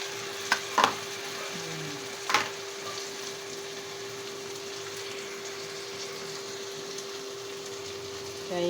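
Shrimp sautéing in butter, two pieces in a home pan, with a soft steady sizzle throughout and a few sharp clinks and taps of a utensil early on.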